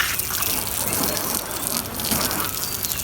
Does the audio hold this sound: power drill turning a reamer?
no